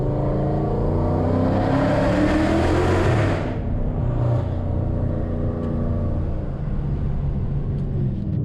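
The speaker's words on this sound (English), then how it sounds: "I can never get enough of that exhaust sound, because this thing sounds absolutely insane" Dodge Challenger ScatPack on 275 tires accelerating hard beneath a bridge, its loud exhaust roaring close and continuous as it builds, then settling into a sustained rumble, with no talking.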